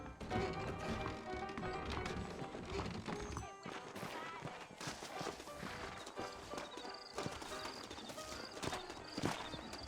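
Horse hooves clip-clop in rhythmic, fairly quiet steps in the Western game Red Dead Redemption, mixed with game ambience and background music, with a neigh or two and voices talking over it.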